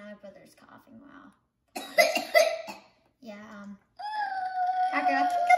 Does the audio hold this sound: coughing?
yes